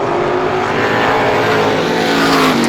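A 350 supermodified race car roars at Star Speedway during a feature race, its engine a loud, steady, continuous drone that holds close and strong throughout with no breaks.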